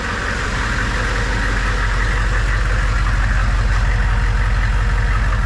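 A 1987 AM General Humvee diesel engine idles up close, a steady low, throbbing rumble that holds even and unbroken throughout with no voices over it.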